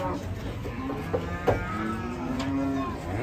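Agitated cattle being unloaded give a drawn-out low moo near the end, rising over steady background chatter and rumbling.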